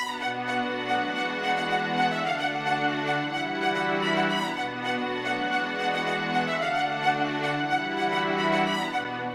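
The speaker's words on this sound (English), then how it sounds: "And altogether, the strings sound like this." A lush string section plays sustained, bright chords with a disco feel, smooth and continuous with no voices.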